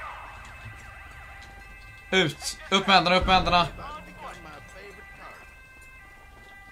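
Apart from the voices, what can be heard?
police car sirens in the video game GTA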